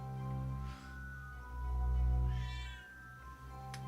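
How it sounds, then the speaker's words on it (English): A house cat meows twice in a quiet room, one short call and then a longer drawn-out meow, faint and close, with a steady low hum underneath. "Shut up, cat!"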